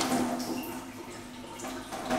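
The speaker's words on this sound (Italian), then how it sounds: "Mettiamo il pollo nella bacinella, aggiungiamo un po' di acqua" Water poured from a tap into a bowl of chicken pieces, a soft continuous splashing trickle close by, lasting a couple of seconds with a slight surge at the end.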